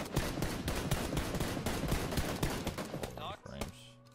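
Rapid bursts of video game gunfire crackle loudly and densely through nearly the whole stretch, thinning out near the end, with players' voices mixed in.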